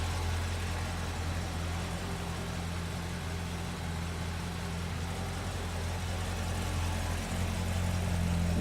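A 2006 Corvette Z06 with the 2LZ package and an NPP performance exhaust, its engine running at a steady idle, a continuous low rumble and hum that stays even and close throughout with no revving.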